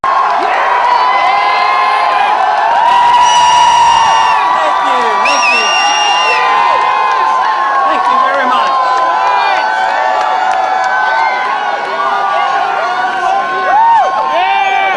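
A large crowd at a Ron Paul rally at Chico State University, California cheers loudly in welcome, a dense continuous roar with whoops, shouts and high whistles rising over it throughout.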